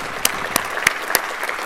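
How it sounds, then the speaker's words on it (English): Audience applause at an American energy event, steady clapping from a seated crowd with a few sharper individual claps standing out through the short burst. "So let's give everyone a round of applause, particularly our head table today, for being here with us."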